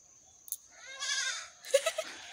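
Goats bleating at a rural home, a drawn-out wavering bleat followed by several short, sharp bleats close by, with no talking.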